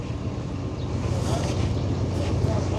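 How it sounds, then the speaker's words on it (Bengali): A passenger boat drawing near the Rustampur ghat river crossing, heard as a steady low rumble and wash of water under wind buffeting the microphone, continuous and fairly loud throughout. "ওই যে ওই নৌকাটা যে আসছে, নৌকাটায় উঠবে?"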